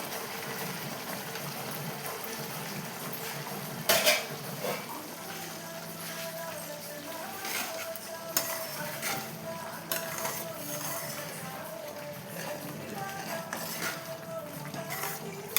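Poori potato masala being stirred in a pot after boiling, soft scraping and wet squelching of the thick mixture with occasional utensil knocks against the pot, quiet and close with a faint background hum.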